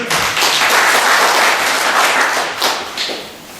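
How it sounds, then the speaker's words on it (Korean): An audience at a residents' meeting claps loudly and close by, a dense burst of hand claps with a few louder individual slaps near the end as the applause tapers off. "박수 한번 부탁드리겠습니다."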